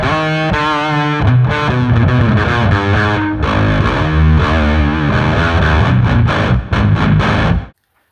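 Electric guitar strung with phosphor bronze acoustic strings, played through distortion and effects as a loud, dense run of chords and riffs that rings steadily before stopping cleanly near the end.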